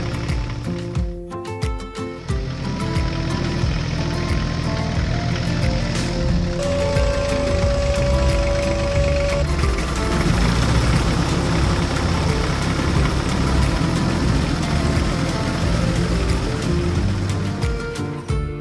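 A red tractor pulling through rows of straw on a farm field, its engine droning loud and steady for the whole stretch, with a brief higher whine partway through.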